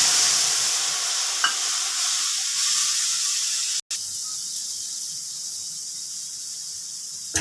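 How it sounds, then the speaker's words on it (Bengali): Spice paste of salt, turmeric, chilli powder and coriander powder sautés in oil with a steady hissing sizzle and a few stirring taps, the hiss thinning after a short break midway; no voices. "সেটাকে আমি এখন মশলাটা কষিয়ে নেব"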